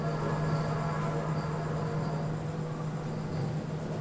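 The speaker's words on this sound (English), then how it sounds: "a train goes by" A train rumbles past at a station, a steady, loud continuous roar with a low hum and faint high squeal of wheels throughout, no voices over it.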